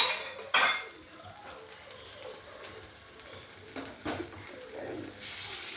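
Metal spatula scraping fried egg off a pan, a few short close scrapes and clinks of utensil against metal, with quiet kitchen background between strokes.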